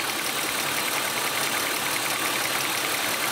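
BMW E36 M3 engine idling steadily up close, a constant mechanical hum with a light, even tick of a suspected lifter running through it, no voices.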